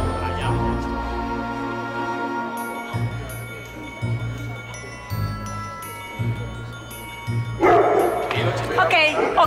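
A small dog yaps and barks in quick bursts amid a busy, music-backed scene, with people talking and shouting over it; the yapping grows louder and more excited toward the end.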